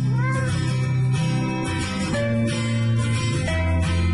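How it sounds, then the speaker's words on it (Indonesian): An orange cat crying with sustained, sad-sounding meows that stay loud and fairly steady, layered over what seems to be a musical background. "kucing menggemaskan ini menangis dan menunjukkan raut wajah sedih"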